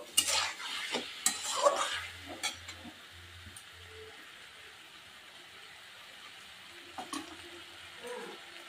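Ivy gourd and potatoes frying with ginger and green chili paste, a spoon scraping and stirring through the pan in short bursts over a quiet background sizzle, the stirring fading out midway and then returning briefly.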